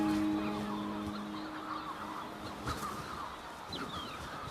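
Gulls call at a puffin colony, harsh honking cries rising over a noisy outdoor background, with a sustained low tone early on and scattered sharper calls later.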